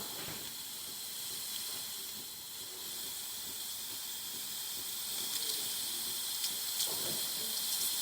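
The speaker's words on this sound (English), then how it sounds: "So starting with the steamer, we're gonna test out the machine." A DeLonghi espresso machine's steam wand hisses steadily and fairly softly throughout, a continuous airy rush with slight surges and no talking.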